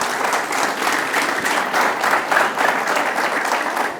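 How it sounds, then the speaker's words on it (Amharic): A seated audience at a talk on the Buhe festival claps together in a sustained, even round of applause filling the room, with a loose rhythmic pulse. "ለዚህ ህዝብ አጨብጭቡለት እስኪ።"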